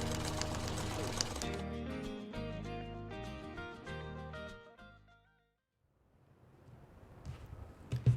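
Sewing machine joining jelly roll quilt strips, a steady close mechanical hum with music over the first half, then fading to quiet handling noises and a few soft knocks.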